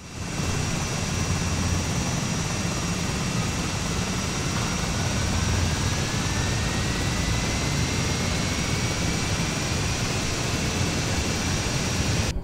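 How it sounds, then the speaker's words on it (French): Left aircraft engine spooling up in Flight Simulator 2020, a constant loud roar with a thin whine slowly climbing in pitch over several seconds, sustained throughout with no talking. "Ok, on va démarrer le moteur gauche."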